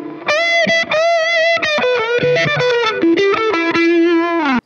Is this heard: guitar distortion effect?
yes